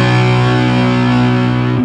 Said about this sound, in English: Because if we weren't touching the strings at all, it would sound like this.